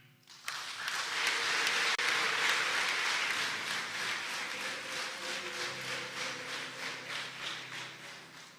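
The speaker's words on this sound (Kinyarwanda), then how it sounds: "Duhe Imana amashyi n'impundu." A congregation in Cyangugu cathedral breaks into sustained applause with rising cheers and high trilling ululation, loud and reverberant, fading slightly toward the end.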